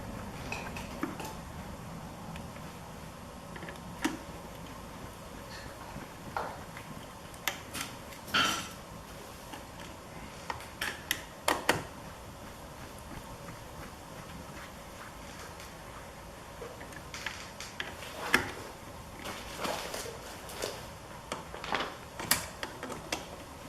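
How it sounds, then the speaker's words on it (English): Ratchet and wrench work on the clutch cover bolts of a Honda CB750 motorcycle, a long run of light metallic clicks and ticks with occasional sharper clinks of tools, close and fairly quiet, no speech. "Now we're gonna run these down. Alternating which bolt we tighten."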